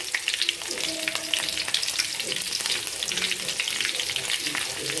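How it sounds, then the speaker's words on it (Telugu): Dried red chilli, a spoonful of cumin seeds and chopped green chilli fry in hot oil in a pan, giving a steady, loud, close sizzle that runs without a break. "ఈ ఆయిల్ ఫ్రై అయిపోయిన తర్వాత ఎండుమిర్చి ఒకటి వేసుకున్నాను. అలాగే ఇందులో జీలకర్ర ఒక స్పూను"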